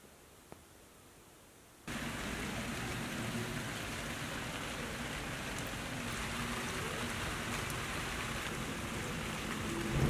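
Rain falls steadily on a run home from school, a dense constant hiss that jumps in loudness after a quieter opening and then stays even and close to the end, with no voices.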